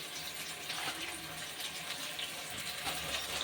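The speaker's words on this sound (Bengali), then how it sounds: "মিক্সির বাটিটা ধুয়ে অল্প একটু জল।" Water runs steadily from a tap while a mixer grinder jar is rinsed out in a home kitchen, a continuous hissing splash that holds at an even level throughout.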